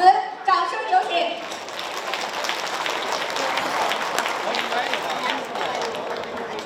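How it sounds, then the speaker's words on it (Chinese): Banquet audience applauding an introduced speaker at a Toronto dinner marking the People's Republic of China's 70th anniversary; a brief voice opens, then steady, dense clapping fills the hall and holds at an even level to the end. "让我们以最热烈的掌声有请多伦多华联总会主席汪国宁先生"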